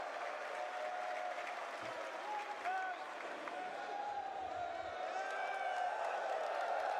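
Arena crowd at the BLAST Austin Counter-Strike Major applauding and cheering steadily throughout, with scattered whoops and a commentator's voice running over the top.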